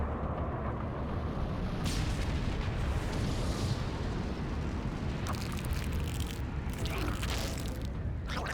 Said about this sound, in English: Nuclear launch detected. Warfield has launched another missile at our forces.